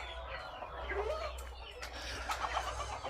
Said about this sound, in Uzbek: Mana bu setkani orqasida tovuqlar turibdi, mana cho'jalar.